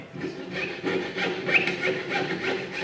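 A jeweler's saw cuts through copper sheet for an octopus pendant, its quick back-and-forth strokes making a close, steady rasping with no talking.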